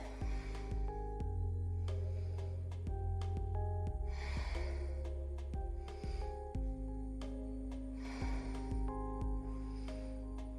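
Heavy breaths taken during a beginner yoga exercise of straightening the legs and sitting down, heard as several rough, snorting exhales at a steady pace under continuous background music.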